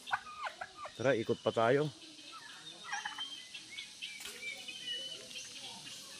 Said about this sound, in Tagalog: Ayun, mga manok.